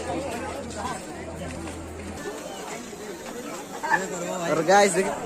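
A bustling crowd at the Kuchinda Dussehra fair fills the air with close chatter and babble, voices overlapping throughout, growing a little louder toward the end.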